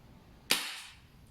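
A single sharp crack from a Kjworks KP-07 airsoft gas pistol fired once, with a quick hissing tail fading over about half a second in a quiet setting.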